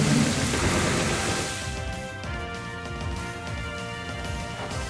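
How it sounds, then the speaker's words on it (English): Rain Dance in a Pokémon VGC battle game brings a steady, loud wash of rain with a rumbling thunder-like swell at the start that eases into constant downpour. "I have nothing to do, so Rain Dance is what I'm doing."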